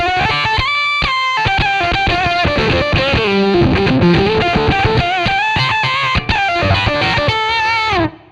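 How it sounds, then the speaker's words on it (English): Electric guitar through an octave fuzz, thick buzzy notes with a ringing upper octave, played as a steady lively riff with no talking. "I have an Octafos, which sounds like this."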